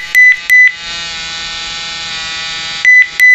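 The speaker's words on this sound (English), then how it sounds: "causes my cell phone to ring and vibrate." A phone vibrates with a continuous buzzing drone, while two pairs of short electronic ringtone beeps sound at the start and at the end.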